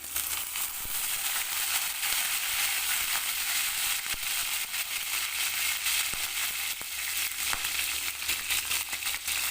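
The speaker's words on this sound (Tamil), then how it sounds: "இப்போ கருவேப்பிலை வந்து பாதி மட்டும் போட்டுக்கலாம்" Curry leaves and popped mustard seeds sizzle loudly in hot oil for a Tamil green gram curry, a dense continuous hiss with scattered sharp crackles and pops close to the pan.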